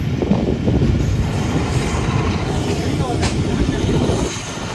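A train runs on the Awam Express route from Drigh Road to Jungshahi, a loud, continuous rumble of rolling wagons and wheel noise close by, with a voice talking over it.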